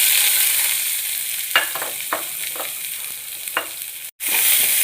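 Onions fry with mustard seeds in hot oil in a pan, sizzling steadily while a spoon stirs through them in several scraping strokes, close and fairly loud with no talking.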